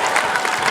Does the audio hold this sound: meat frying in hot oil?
no